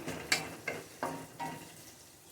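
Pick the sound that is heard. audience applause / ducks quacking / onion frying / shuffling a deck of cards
onion frying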